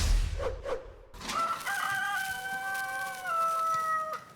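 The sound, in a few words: chickens and rooster crowing on a farm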